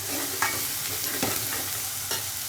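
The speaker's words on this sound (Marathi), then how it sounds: "आता व्यवस्थित हा मसाला परतून घेऊ" Masala for a catla river fish curry sizzles and fries in a pan, with several scraping stirs of a spoon cutting through the steady close crackle.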